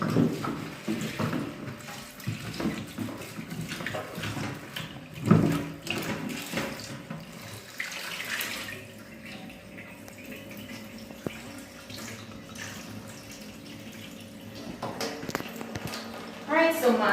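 Tap water runs into a sink while scallion, thyme, tomato and Scotch bonnet pepper are washed, a steady splashing stream with occasional knocks and clatters, and a person talks over it for much of the time.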